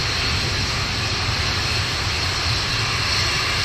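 Atlas V rocket engines roar as a steady, loud, broadband rumble during launch ascent, holding an even intensity throughout without pauses.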